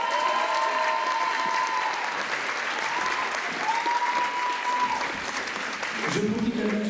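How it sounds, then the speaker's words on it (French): Audience applause fills the space at a beauty pageant, steady clapping from a crowd lasting several seconds, with a few voices rising near the end. "Et on peut les applaudir."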